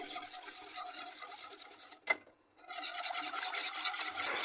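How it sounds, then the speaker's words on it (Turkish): A spoon stirring a cup of sugar into a profiterole cream mixture in a pot, a steady close scraping rasp that breaks off briefly with a small clink, then resumes more loudly. "Ve bir su bardağı şeker de ekleyelim ve karıştıralım."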